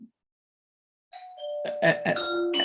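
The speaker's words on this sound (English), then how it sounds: "My doorbell's ringing." Doorbell ringing at a house: after a brief sound and a second of silence, a multi-tone chime plays clearly and rings on, layered and fairly loud.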